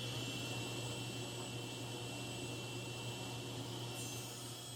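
A table saw with its blade tilted to about 12 degrees runs steadily under a loud, continuous motor whine and broadband roar as it cuts a tapered wooden box lid, with no talking.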